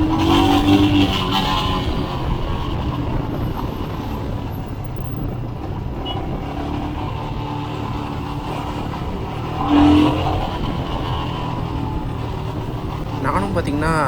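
A 2021 Royal Enfield Himalayan motorcycle pulls under acceleration, its engine droning steadily beneath a rider's continuous talk and swelling briefly near the ten-second mark.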